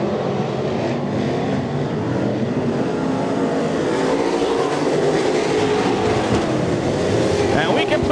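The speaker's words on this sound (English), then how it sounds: "Green flag is out and Brown takes it in hard, the low groove into turns 1 and 2." Race cars circle an oval track at the green flag of a points race, a dense continuous engine roar from the pack carrying steadily throughout, with a voice faintly underneath.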